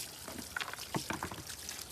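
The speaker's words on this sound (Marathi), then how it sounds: "तर त्या दगडा धुवून घेऊया सर्व" Stones being washed in water for a fish tank, with faint splashing, trickling and light knocks of rock in a shallow container, soft and close throughout.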